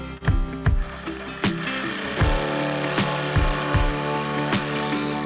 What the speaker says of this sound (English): I made as much of a radius of a cut as I could with the Sawzall